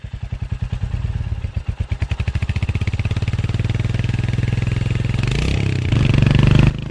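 A Royal Enfield Hunter 350 motorcycle on a highway gives a close, rapid thumping engine pulse that quickens and smooths out as it picks up speed, with a brief louder rise near the end.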